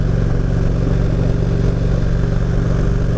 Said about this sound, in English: It's a very pretty bike.